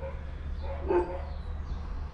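A single short dog bark or yip rises near the middle, fairly faint, over a steady low hum, with no talking.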